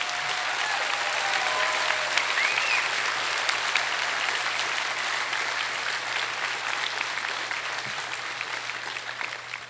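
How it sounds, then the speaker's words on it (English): Sustained audience applause at a high school class of 2023 graduation ceremony, steady and dense throughout, filling a large hall for the graduating students. "Please give these students a round of applause."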